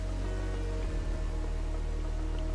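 Steady rain from the post-apocalyptic survival city-building game Endzone 2, a dense continuous hiss of falling drops with a low droning hum beneath, loud and unbroken throughout.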